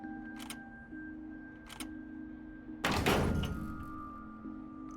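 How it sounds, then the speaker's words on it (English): A door opens in the video game Trails through Daybreak with a sharp thunk and a short rattling burst partway through, over steady soft game music and a couple of faint, brief clicks earlier. "Time to go through the door."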